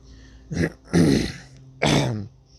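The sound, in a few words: throat clearing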